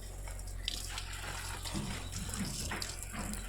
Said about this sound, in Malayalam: ഇങ്ങനെ വെള്ളം ഒഴിച്ചിട്ടെല്ലാം കൊടുക്കുമ്പം